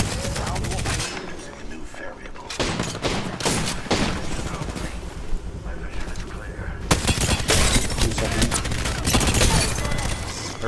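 Bursts of rapid gunfire in Apex Legends, several loud volleys separated by short pauses, close and dense, with game noise between them and no talk.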